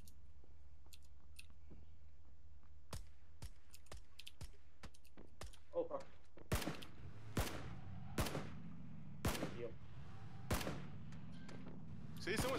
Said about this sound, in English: someone's shooting at me from the side